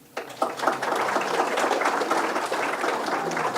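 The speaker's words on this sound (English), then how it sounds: "And you guys want to give them applause?" An audience at an evening candidate forum applauds the candidates, a dense, steady round of clapping that starts abruptly and holds loud and even to the end.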